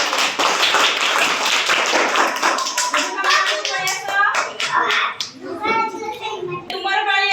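Children clap their hands during a classroom game of stacking and decorating glasses into a pyramid: short, irregular claps scattered among lively children's chatter.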